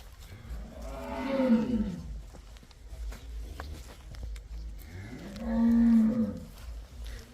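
Dairy cows offered for sale on a farm low out two long moos, one near the start and another louder one a few seconds later, with quiet farmyard background between.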